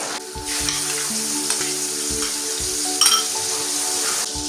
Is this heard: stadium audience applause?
no